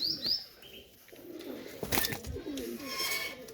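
A Teddy pigeon let go: brief chirping calls and a burst of flapping wings at close range over faint background noise.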